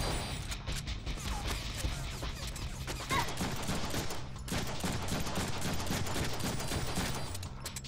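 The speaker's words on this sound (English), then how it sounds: "Shotguns rock!" Shotgun blasts and other weapon fire in the Deadpool video game boom repeatedly amid a dense, chaotic barrage of combat sounds, loud and continuous with no talking.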